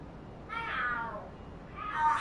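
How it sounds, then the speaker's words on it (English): Cats screaming and fighting in the video game Lost Judgment: two drawn-out, wavering yowls, the first long and falling and the second rising, loud against a quiet background. "Oh, are there cats fighting? What are they screaming for?"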